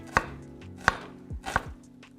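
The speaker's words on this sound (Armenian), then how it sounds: "սկսել մանր կտրատել, բավականին մանր կկտրատվի" Three sharp knife chops strike a cutting board at a steady, unhurried pace, finely chopping eggplant, close and clear with no talking.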